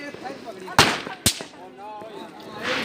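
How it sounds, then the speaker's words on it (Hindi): Two sharp, loud pops a half-second apart come from children's snap firecrackers thrown hard onto the ground at a New Year's Eve celebration, with quiet voices talking around them. "ये वाले पटाखे, ये छोटे छोटे बच्चों के लिए होते हैं, इनको आग वगैरह नहीं लगानी पड़ती"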